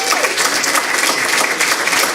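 A crowd at a school district board meeting claps for Novato High School students, dense sustained applause filling the room, loud and even from start to finish.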